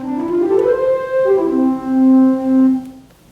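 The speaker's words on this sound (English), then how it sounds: "They sound kind of like a flute, more like an organ style of a flute." Theatre organ flute pipes play a short, soft melodic phrase of sustained, smooth tones that step downward and hold, then fade out.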